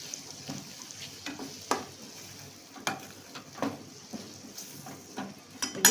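Spoon stirring gunda sambharo, a mixture of gunda with spices, gram flour and lemon juice, in a pan over the flame, with soft scraping and light sizzling, faint taps and clinks at irregular intervals.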